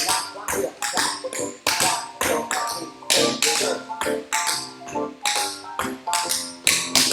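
Tap shoes strike a hard floor in quick, crisp clusters of steps, a lively irregular rhythm of sharp clicks and shuffles, close and loud.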